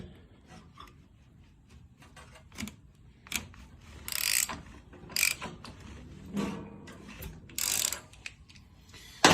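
A motorcycle clutch hub fitted with a Clutch Tamer, turned by hand in reverse, giving intermittent ratcheting, clicking and rasping mechanical sounds in short bursts, close by and fairly quiet, with no talk.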